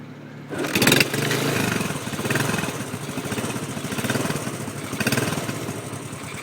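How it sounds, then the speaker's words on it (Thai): A restored Honda motorcycle engine starts on the first try with a sudden burst, then settles into a loud, rough, steady running rumble close by. "เครื่องสามารถสตาร์ททีเดียวติด"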